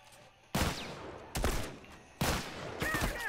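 Gunfire in The Last of Us Remastered comes as three loud, sharp bursts roughly a second apart, each trailing into a rattling echo.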